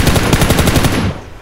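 Rapid video game automatic gunfire rattles in a fast, loud, close burst of evenly spaced shots and then cuts off abruptly.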